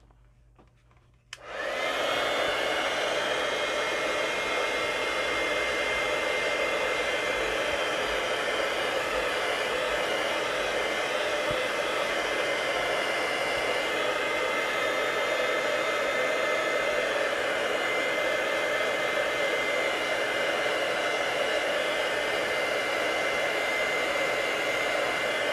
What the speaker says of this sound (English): I'll heat set that.